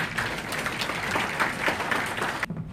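Audience applause at a ceremony marking the March 1st Independence Movement anniversary, dense steady clapping from a crowd lasting a couple of seconds before cutting off abruptly.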